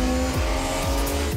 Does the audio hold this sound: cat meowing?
no